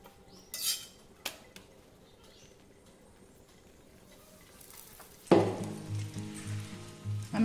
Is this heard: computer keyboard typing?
no